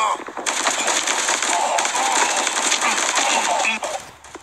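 Sustained automatic gunfire in the Guns of Boom shooter game, a dense rapid burst lasting several seconds and loud, with a voice faintly under it before it cuts off.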